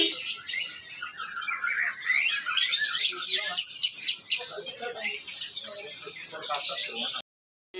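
A sooty-headed bulbul (kutilang sutra) sings in a bird shop: a bright, rapid, warbling song carries continuously and loudly, with bits of chatter in the background, then cuts off abruptly near the end.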